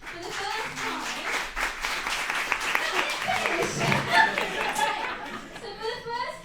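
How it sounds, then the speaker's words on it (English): An audience at a student union election question time gives a round of applause mixed with chuckles and chatter, clapping rising and falling under nearby voices. "Can we please have a round of applause?"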